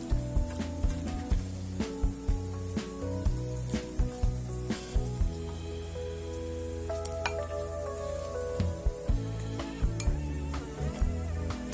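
Chorizo frying in a pan, a soft steady sizzle broken by frequent clinks and scrapes of a utensil against the pan, close and fairly quiet.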